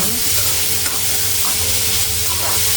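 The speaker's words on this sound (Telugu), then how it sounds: "బాగా వేగనివ్వాలి. రెడ్డిగా వేగిన తర్వాత" Chopped onions fry in a pan for egg palayam, making a loud, continuous close sizzle with occasional soft stirring scrapes and no voices.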